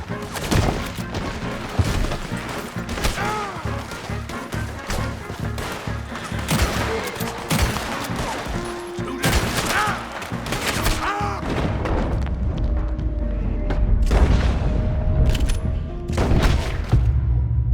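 A shootout in Red Dead Redemption 2 fills the air with repeated loud gunshots and overlapping bursts of fire. Sharp cracks and booms carry over a dense background, and a low rumble builds toward the end.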